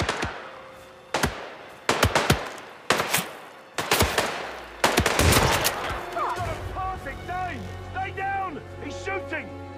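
Gunfire in Hitman 3 VR, Dartmoor level: a string of loud, sharp shots spaced about a second apart, then a denser volley overlapping with shouted voices and game chatter.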